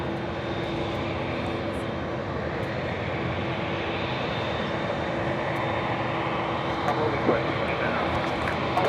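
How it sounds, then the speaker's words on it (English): An Aeromexico Boeing 787 Dreamliner on approach at JFK, a steady broadband jet roar with a faint whine, growing slightly louder toward the end, with people talking over it. "So Aeromexico, the Dreamliner, now heading toward us here."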